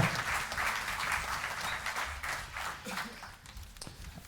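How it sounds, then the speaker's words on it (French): Applause from a concert audience for the wind band musicians of a harmonie, a dense, fairly distant clapping that holds steady for most of the span and then thins and fades toward the end. "Merci aux musiciens de l'harmonie, on va encore les applaudir."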